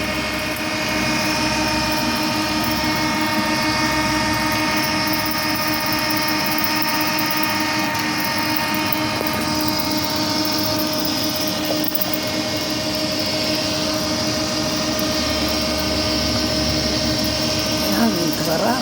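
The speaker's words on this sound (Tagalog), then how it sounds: "Maingay guys ang exhaust fan ko." A noisy kitchen exhaust fan roars steadily and loudly while fish soup is cooked, a constant droning whir with a tonal hum that never lets up across the whole stretch.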